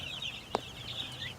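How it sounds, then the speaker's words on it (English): Young Cornish Rock broiler chicks, about a week old, chirp with thin high peeps close by, and a single soft cluck sounds midway. "Here's an update on the meat chickens, the white broilers, Cornish Rocks."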